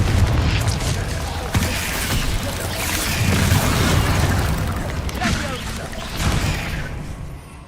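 Bombarda and Confringo spell blasts from the video game Hogwarts Legacy erupt in repeated heavy booms and crackling bursts, forming a loud, dense barrage with a voice partly under it.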